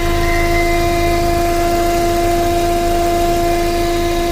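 Idling engine of a 2003 Volkswagen Passat 1.8T with a suspected PCV system leak, a steady loud drone with constant hum and whine tones, close up and uninterrupted, no talking.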